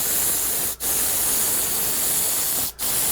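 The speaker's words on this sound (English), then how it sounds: "Normally I would spray this with it laying flat" Air spray gun at about 50 psi spraying finish onto a vertically standing carved wooden cabin sign, a loud close continuous hiss broken by two brief pauses as the trigger is released.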